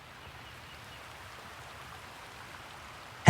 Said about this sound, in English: At last, the rain eased to a patter, then a drip, then silence.